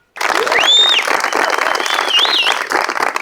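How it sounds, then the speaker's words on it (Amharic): Sustained loud applause and cheering from a crowd at an Ethiopian b-boy and b-girl dance event, with whistles rising above the dense clapping. "ከዛ ደግሞ አሁን ለደረሳችሁበት አጨብጭቡ።"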